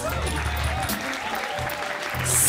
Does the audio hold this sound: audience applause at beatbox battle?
yes